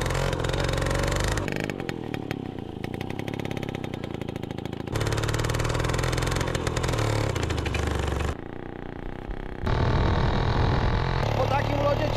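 A small Romet moped engine buzzes and revs while the moped slides across ice, loud and close, in uneven bursts with abrupt changes in level and tone.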